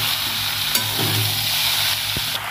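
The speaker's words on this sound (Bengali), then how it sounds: "এর মধ্যে ফুলকপি আলু যেটা ভেজে রেখেছিলাম সেগুলো দিয়ে দেবো, চিংড়ি মাছগুলো দিয়ে দেবো। ভালো করে কষে নেব" Cauliflower, potato and prawns are sautéed in spiced oil for a Bengali curry, giving a steady close sizzle with a few soft stirring knocks and scrapes partway through.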